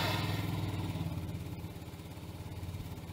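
A 2013 Yamaha Zuma 50cc scooter engine runs after starting, giving a quiet, steady, rapid putter close by that eases slightly in loudness as it settles.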